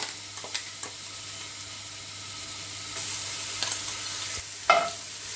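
Ginger garlic paste dropped into well-heated ghee for chicken pulao: a quiet, low sizzle with a few small utensil taps, the hiss swelling partway through and a short sharper scrape near the end.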